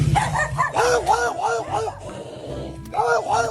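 Several dogs bark rapidly and repeatedly close by, their barks overlapping in quick rhythmic bursts, with a short lull before more barking resumes.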